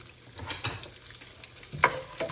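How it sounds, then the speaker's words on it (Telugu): Dried red chillies and green chillies fry in a pan for temple-style tamarind rice, giving a quiet, soft sizzle with occasional scrapes and small pops of stirring, close by and without talk. "ఎండుమిరపకాయలు, ఇవన్నీ వేసి వీటిని మంచిగా ఫ్రై అవ్వనిద్దాం."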